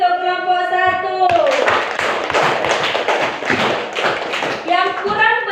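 Students in a primary school classroom clap in a burst of applause for group 1, the uneven claps and taps rising between stretches of a voice speaking before and after.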